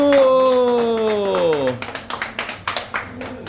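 A few people clap at a military retirement dinner, scattered separate claps following a long drawn-out voice, loose and uneven rather than a full round of applause.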